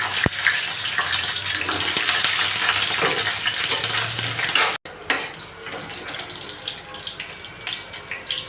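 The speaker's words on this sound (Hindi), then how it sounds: "तेल गर्म हो चुका है और हम इसमें पहले गोभी फ्राई करके निकाल देंगे।" Cauliflower sizzling in hot mustard oil in a kadai, a steady loud crackling hiss that continues throughout, with a brief cut partway and slightly quieter frying afterward.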